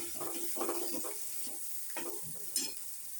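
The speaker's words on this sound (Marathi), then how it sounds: "अगदी अशी सणसणीत अशी चरकन आवाज यायला पाहिजे" Spice tempering with red chilli powder and turmeric sizzling in a hot pan for dhaba-style dal palak, a soft continuous frying hiss with stirring scrapes, quiet and close, with no talking.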